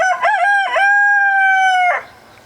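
A rooster on a farm crows once, loud and close, a rising stuttered start followed by a long sustained note that breaks off, with faint ambience afterward.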